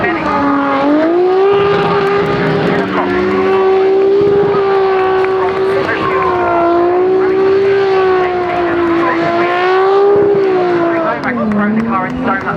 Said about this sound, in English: Throwing the car into donuts in the grass.